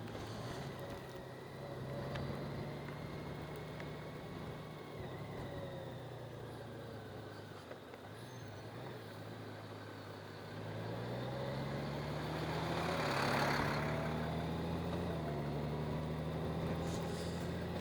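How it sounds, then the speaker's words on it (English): A garbage truck's diesel engine idles with a steady low rumble and drone, moderately distant on a quiet coastal road, with a rise in engine noise toward the end. No one speaks. "except for the garbage truck."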